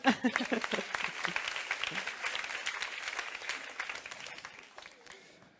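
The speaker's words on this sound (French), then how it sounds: "Est-ce qu'on peut l'applaudir pour l'encourager?" A live audience applauds to encourage a presenter, clapping starting loud and close with a few distinct claps, then settling into a steady wash that fades out near the end; faint voices may mix in.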